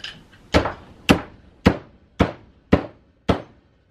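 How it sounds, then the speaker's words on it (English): Seven sharp metallic hammer blows on a steel wire rope eye splice in a workshop, struck at a steady, even pace, each ringing briefly before the next. "I'm going to hammer it."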